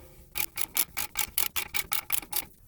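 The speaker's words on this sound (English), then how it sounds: "slide it over the nut, and crank it down with a ratchet" A hand ratchet cranks down the hub nut on a 2012 Fiat 500 during rear wheel bearing replacement: about a dozen quick, evenly spaced clicks, close and crisp, then a stop.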